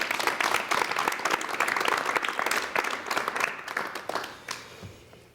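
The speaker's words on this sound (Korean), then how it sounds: "한표옥 대사님 여러분 박수로 환영해 주시면 대단히 고맙겠습니다." A studio audience on a Korean television talk show applauds to welcome a veteran ambassador, dense and sustained clapping that holds strong, then thins out and fades near the end.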